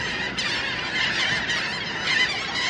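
A flock of seagulls feeding by clean water: a dense, continuous din of overlapping honking, squawking calls, loud and close, with no talk over it.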